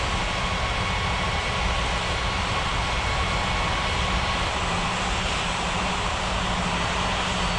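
Aircraft engines in an air traffic control video game produce a continuous, dense jet roar that stays loud and unchanging throughout, with no talk over it.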